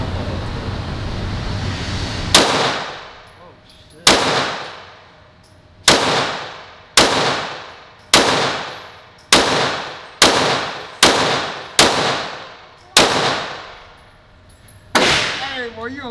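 A pistol fires about ten sharp shots at steel targets during a recoil spring test, each loud crack followed by a ringing metallic decay, at irregular intervals after a stretch of background noise.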